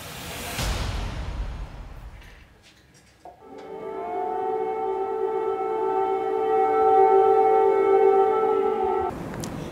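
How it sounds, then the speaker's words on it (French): A long wailing air raid siren in Kyiv rises and holds a steady tone for several seconds, preceded by a whoosh and some rumbling noise. "ce sont des sirènes d'alerte aérienne à Kiev"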